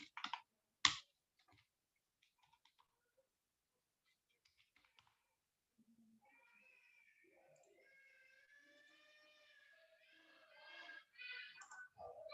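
Brief clicks and light taps of a computer keyboard, sparse and faint at first, followed by quiet background voices toward the end.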